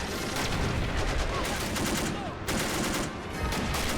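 BAR rifle gunfire in the Army Men video game, in a city-defence battle: loud, sustained bursts of rapid shots with brief gaps, close and dense throughout, with faint talk underneath.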